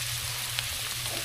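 Onion and garlic sautéing in a pan for homemade sisig, giving a steady, close sizzle with small pops and no talking over it.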